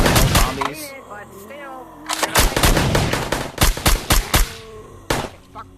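Rapid gunfire in a zombie survival video game, bursts of sharp shots in quick clusters with pauses between them, loud and close, with a voice talking under parts of it.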